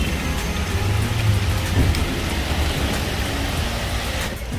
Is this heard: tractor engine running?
no